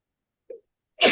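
A short vocal catch followed by a single sharp sneeze, close and brief, with silence around it.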